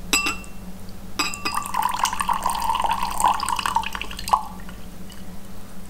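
Water being poured into a container, a bright trickling stream that starts after a couple of clinks, runs for a few seconds and ends with a final clink, close and clear with no talk.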